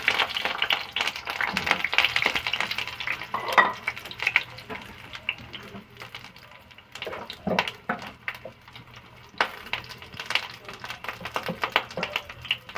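Pointed gourd pieces fry in mustard oil in a wok, giving a bright sizzle with intermittent stirring clatters and scrapes, fairly close and uneven in loudness.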